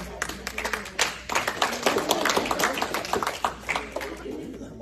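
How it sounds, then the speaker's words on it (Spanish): A church congregation at a Wednesday Bible study applauds in uneven bursts of clapping, with voices calling out over it. "Es un aplauso"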